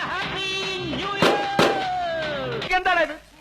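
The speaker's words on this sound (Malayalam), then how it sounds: "എന്തിനാ ആളുകൾ പടക്കം പൊട്ടിച്ചേ?" Firecrackers bursting during New Year celebrations in Thrissur: two sharp close bangs in quick succession over a wavering, voice-like tone.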